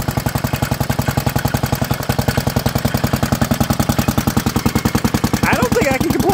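A 1964 Allis Chalmers B-10 tractor engine runs with a steady, rapid, close-up chugging beat throughout, loud and even, with some brief higher-pitched noise near the end.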